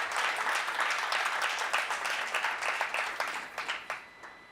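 An audience applauds at a classical dance centenary celebration, a dense sustained round of clapping from a hall crowd that thins toward the end into scattered individual claps.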